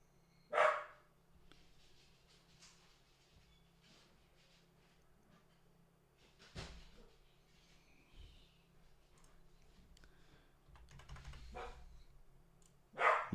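A dog barks a few times at a distance, single sharp barks separated by long pauses, against a quiet room with faint low hum.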